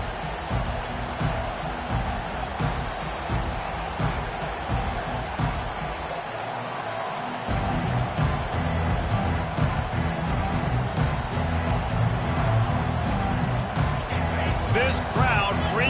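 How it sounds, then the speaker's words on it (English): A packed stadium crowd at an American football season opener roars in a loud, sustained wash of noise, swelling higher about halfway through, with a commentator talking over it. "This crowd bringing an ear-splitting welcome to their visitors."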